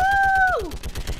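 Geth turret machine-gun fire in Mass Effect 3 on Rannoch: a sustained whistling tone drops away into a quick, loud run of rapid, evenly spaced shots over about a second.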